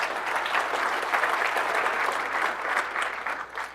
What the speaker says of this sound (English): Somebody was clapping on the room.